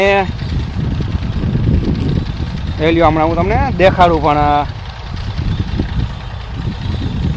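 An old-model Massey tractor running a pesticide sprayer gives a steady low engine drone, and someone talks over it at close range.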